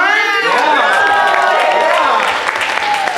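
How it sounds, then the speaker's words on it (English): A convention panel audience gives a round of applause, dense clapping with some cheering filling the room, loud and continuous throughout. "I'll give them a round of applause."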